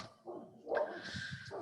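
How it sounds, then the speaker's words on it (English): Excited dogs indoors give a few soft woofs and whimpering yips, fairly faint and brief. "Anyway, dogs are excited."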